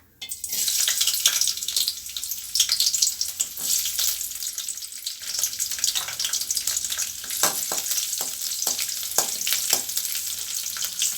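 Ginger and garlic hit hot oil for a capsicum chutney, bursting into a loud sizzle after a short quiet start, then crackling on steadily with sharp pops and spatters.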